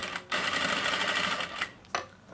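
A sewing machine stitches a pants side pocket in a fast, steady whirring burst of close needle rattle, stops, then gives a short second run.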